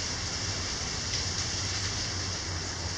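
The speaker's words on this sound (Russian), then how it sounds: "Дождичек." A heavy summer rain shower pours down as a dense, steady hiss of falling water, even and unbroken for a few seconds.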